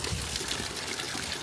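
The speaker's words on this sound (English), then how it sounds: "the water is just flowing from within the rocks" Water flows out from within rocks near Garni Temple in Armenia, a continuous splashing trickle and pour, close and steady for a brief moment with no talking.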